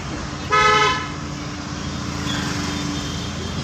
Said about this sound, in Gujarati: ટ્રાફિક તો ફૂલ દેખાય છે